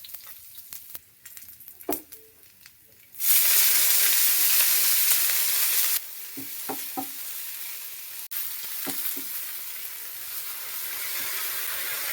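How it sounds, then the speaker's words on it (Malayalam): Loud, steady sizzling of moringa leaves being sautéed in a hot pan, with occasional scraping stirs and clinks of a utensil against the pan. "മുരിങ്ങയില ഇല അതിനകത്തേക്ക് ഇട്ടൊന്ന് വഴറ്റി"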